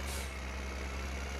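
A tractor engine idling in Farming Simulator 15, a faint low steady rumble with a brief hiss at the start.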